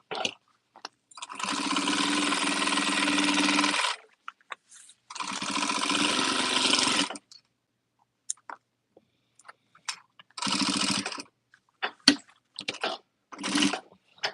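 A production sewing machine stitches a fabric header in short runs, a couple of long bursts of rapid mechanical whirring, then shorter spurts separated by quiet pauses and small clicks.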